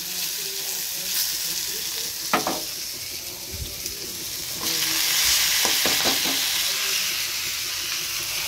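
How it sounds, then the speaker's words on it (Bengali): Vegetables sizzle and hiss steadily in a hot pan, cooking ahead of Malabar spinach for a curry. A few knocks of stirring sound partway through, and the frying swells louder for the last few seconds. "এখানে সবজিগুলো একটু ভেজে নিচ্ছি, তারপরে পুঁই শাকটা দিয়ে দেবো"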